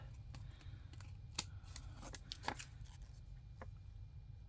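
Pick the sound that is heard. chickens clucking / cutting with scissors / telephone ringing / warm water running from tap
cutting with scissors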